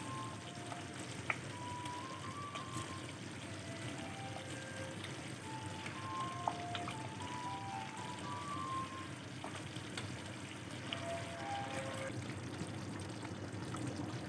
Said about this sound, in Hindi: पकोड़े जो हमने तल के रखा हुआ था वो अब हम इसमें डालते जाएंगे।